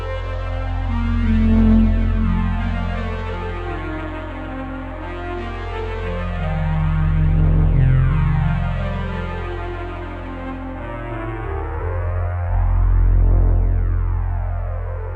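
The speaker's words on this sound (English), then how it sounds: "For classic flanger sweeps, use Flanger B." A sustained synthesizer chord with a slow, sweeping flanger effect from a Casio VA-10, its whooshing comb-filter sweep rising and falling in several long waves.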